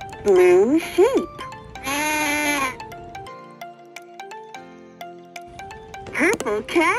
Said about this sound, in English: Blue sheep.